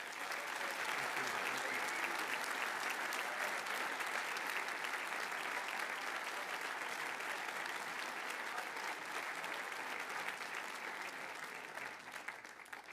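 Sustained applause from a large commencement audience at Cushing Academy honoring a recipient, dense steady clapping lasting throughout and tapering slightly near the end.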